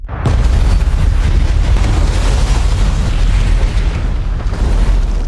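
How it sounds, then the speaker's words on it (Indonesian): A massive anime bomb explosion unleashes devastating destruction, a loud, sustained booming roar with deep rumbling low end that erupts suddenly and churns on without letup. "Bom itu pun meledak, menyebabkan kehancuran yang sangat dahsyat."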